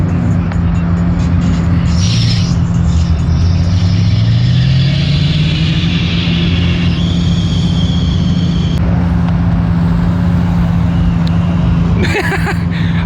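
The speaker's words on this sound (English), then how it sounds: "Oh, they got the Fox body rolling out over there." A Ford Fox body Mustang pulls out of a car meet, its mid-pitched engine droning steadily and rising in pitch as it accelerates nearby, with other cars and a brief voice in the background.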